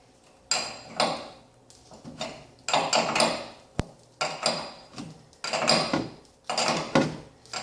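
Metal wrenches clicking and clanking against hardware while loosening the rear shock nut on a 2013 Toyota Tacoma with Bilstein 5100 shocks, in several short bursts of ratcheting, scraping effort with brief pauses between.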